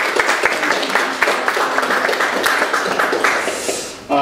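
Applause from a church congregation during a worship service and communion gathering, a steady, dense wash of many hands clapping that fills the room before cutting off abruptly near the end.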